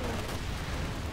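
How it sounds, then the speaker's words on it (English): An incendiary barrel explodes in the Company of Heroes 2 strategy game, a dense, loud rumbling blast that fills the whole second with a sustained roaring, crackling wash and no voices. "Incendiary barrel straight on the MD42."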